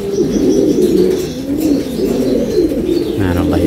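Pigeons coo in a continuous, close chorus, including a blue male displaying, with soft throaty rolling calls filling the space and someone speaking faintly over them.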